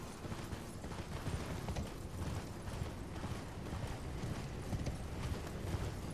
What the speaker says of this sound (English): And then I'll go ahead and call up the horse again.